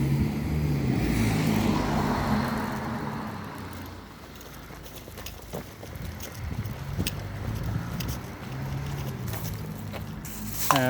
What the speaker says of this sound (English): So wait till this car goes.